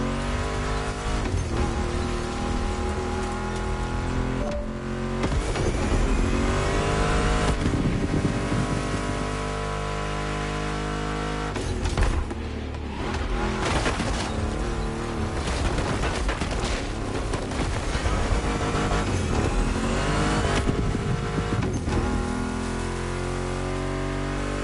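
Loud, roaring muscle car engines, including a Mustang GT, revving and shifting continuously in the video game The Crew Motorfest, with tire squeals and music-like riffs layered over the racing noise.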